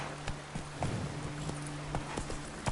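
Horse Roach from the video game The Witcher 3 galloping, a steady run of hoof clip-clops under a humming game soundscape, moderately loud throughout.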